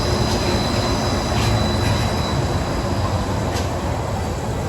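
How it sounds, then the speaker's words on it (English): A Disneyland monorail train passes nearby, a loud continuous rumble with faint squealing from the wheels and track, without speech. "There goes a monorail."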